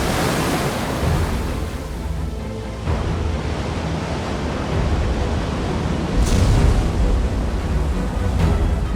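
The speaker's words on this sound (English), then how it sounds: "Some of the greatest waves on the planet erupt from the seas here." Large ocean waves breaking at Nazaré, Portugal, a big-wave surfing spot: a continuous loud roar of surf with broad rushing wash, swelling again at about three seconds and more strongly near six seconds, with no voices.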